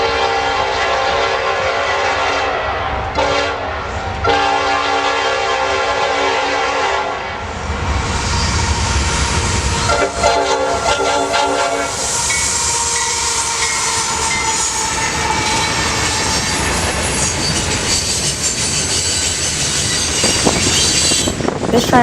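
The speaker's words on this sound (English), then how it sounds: "The leading locomotive on this train had a foul horn," A Norfolk Southern freight train passes near Atlanta, its lead locomotive sounding a foul, harsh horn in several blasts, followed by loud rolling wagons and squealing wheels as the train rumbles by close up.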